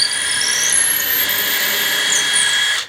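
A power drill whines steadily at high speed for a few seconds, loud and close, then cuts off abruptly.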